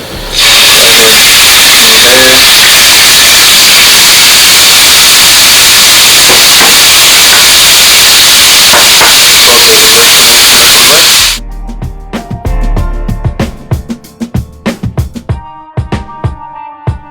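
Vegetables hit a hot pan with oil and burst into a loud, dense sizzle that holds steady for about eleven seconds, then cuts off, followed by scattered clinks and taps.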